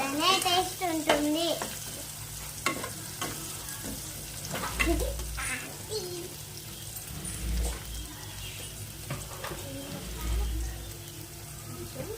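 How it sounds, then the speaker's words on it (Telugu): Onions fry and are stirred in a pan until they turn red, a continuous crackling sizzle with scraping strokes, while a voice talks over it. "ఆనియన్స్ రెడ్గా అయ్యేదాకా వేగించాలి ఆనియన్స్ మనకి రెడ్ అవుతుంది"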